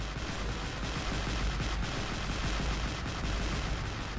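Continuous rumbling barrage of Nebelwerfer rocket artillery and gunfire in the World War II strategy game Men of War: Assault Squad, a dense, steady wall of booms and crackle with no pauses.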